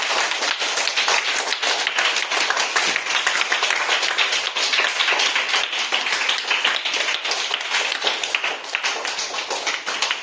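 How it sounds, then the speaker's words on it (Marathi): Schoolchildren and teachers at a Konkan primary school clap hard together, giving a dense, continuous round of applause that holds steady for about ten seconds with no pause. "आपल्या आराध्या मन दळवी युट्यूब चॅनलसाठी जोरदार टाळ्या वाजवायची"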